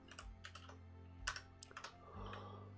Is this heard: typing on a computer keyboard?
yes